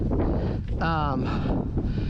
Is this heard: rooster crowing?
no